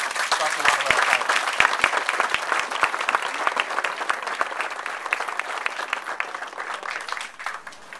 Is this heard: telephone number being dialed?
no